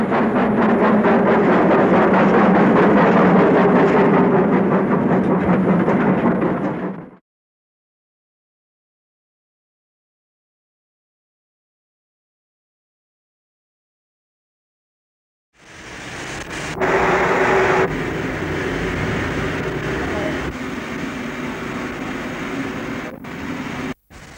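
A vintage passenger train on the service from Paddington via Birmingham Snow Hill to Birkenhead rumbles along steadily, loud broadband running noise, breaking off into several seconds of silence before resuming with rattling and clanks.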